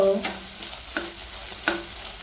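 A spoon scrapes and stirs tomato and egg masala in a hot pan, giving a few distinct knocks against the pan over a steady frying sizzle.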